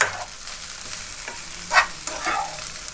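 Freshly ground raw chilli masala fries in a pan with a constant bright sizzle, broken by a few scraping stirs of a spoon, close and clear with no talking.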